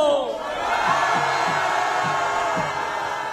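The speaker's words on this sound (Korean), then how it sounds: "함성!" A large outdoor rally crowd at a square lets out a sustained, loud shout on command, a broad swelling roar of many voices holding for several seconds.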